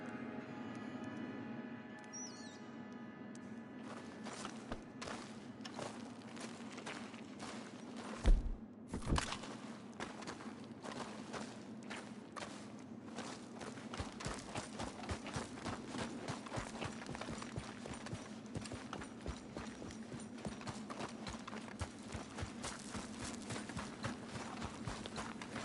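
Horse hooves clip-clop at a steady walking pace, close and fairly clear, with a couple of heavier thumps partway through and no talk over them.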